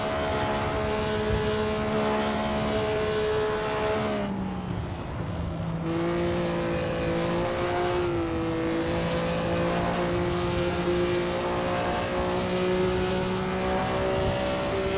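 A historic 1954 Formula 1 race car in Assetto Corsa at the Indianapolis 500 roars steadily at high revs, its engine pitch sliding down through a gear change and climbing again, loud and continuous without speech.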